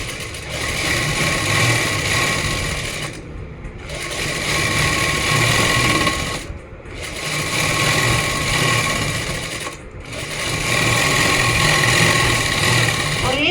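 Sewing machine stitching the folded hem of a plazo trouser, a steady whirring drone that runs in long bursts with brief pauses between runs of double stitching.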